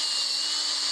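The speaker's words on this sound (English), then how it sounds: "I decided to bring the drill motor out and try that" A drill motor spinning a wire brush against a white oak log gives a brief, steady high whine, close and loud with no voices.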